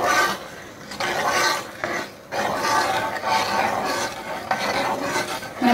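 A spoon stirs melting, caramelising sugar in a pan for spiced mulled wine, giving a steady, close scraping and bubbling hiss that runs almost unbroken, with a few short dips.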